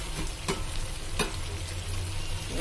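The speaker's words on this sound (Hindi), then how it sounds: "बीच में चलाते हुए मैंने इसे 5 मिनट तक पका लिया" Masala frying in oil in a pan for an aloo vadi and drumstick curry, a steady close sizzle with two brief scraping strokes of a spoon stirring it.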